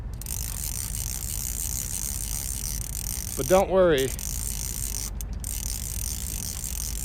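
A fly fishing reel clicker gives one short, loud burst of ratcheting clicks, close by, against a steady outdoor wash during wild trout fishing; a brief spoken phrase comes just before it.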